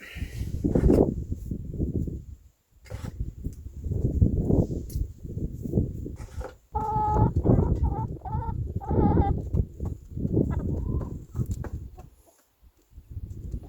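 Twelve chickens cluck and squawk close by in a coop in bursts, with short pauses between, and some higher-pitched calls in the middle.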